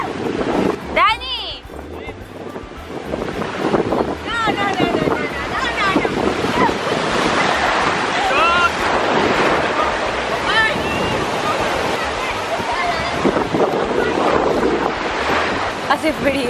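Strong wind buffets the microphone at a cold, stormy beach while ocean waves surge and crash steadily, a loud continuous roar, with voices calling out faintly at moments.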